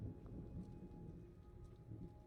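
Rain and thunder in the horror video game The Evil Within: a low, steady rumble of storm with falling rain, fairly faint and continuous, with no voices.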